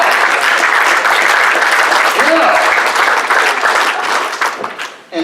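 Loud, dense applause from a magic show audience fills the room without a break, then thins out and fades near the end.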